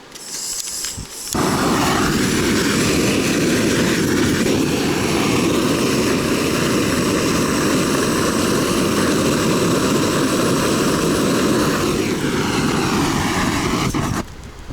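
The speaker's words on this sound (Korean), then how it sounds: "제 첫 영상에 등장했던 그 토치를 이용해서 한번 녹여보도록 하겠습니다" A handheld blowtorch roars steadily as its flame melts beeswax outdoors, a loud, continuous broadband rush that kicks in after a brief start and runs nearly unbroken before easing off at the end.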